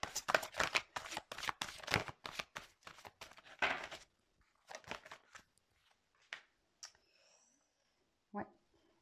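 Tarot cards being shuffled at close range, a quick burst of crisp riffling clicks that gives way to a few sparse, separate card snaps and taps in an otherwise quiet room.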